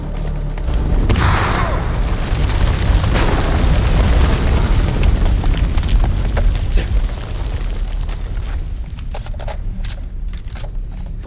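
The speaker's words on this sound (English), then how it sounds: "Oh, grenade!" A grenade blast in the horror game House of Ashes booms loudly and rumbles on for several seconds, a dense roar of debris and crackle that slowly thins into scattered pops and clicks.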